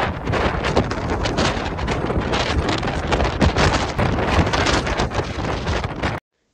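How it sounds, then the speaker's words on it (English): Strong wind roars steadily across the microphone in Cobh, County Cork, Ireland, a loud continuous rushing buffet that cuts off abruptly near the end. "Here is a clip of how windy it was."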